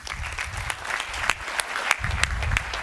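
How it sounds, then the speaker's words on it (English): Audience applause at the Changed Agents Awards 2022, a real estate awards event, with steady clapping from a sizeable crowd that holds an even, sustained level throughout. "a massive round of applause for Anthony Bekiaris from Harcourts."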